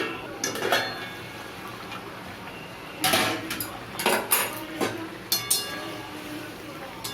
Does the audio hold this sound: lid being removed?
yes